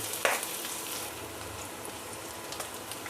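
Pork belly and garlic cloves sizzle and fry in a pan while being stirred, a steady, close crackling hiss with light spatters and no talking.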